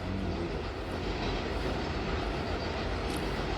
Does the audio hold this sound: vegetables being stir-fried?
no